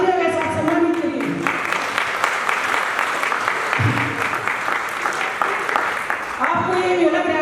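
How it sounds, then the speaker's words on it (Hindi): Steady audience applause at an animal husbandry business launch event, continuous clapping with a voice heard briefly at the start, middle and end. "मेरे सारे पार्टनर को तालियों के साथ सम्मानित करिए"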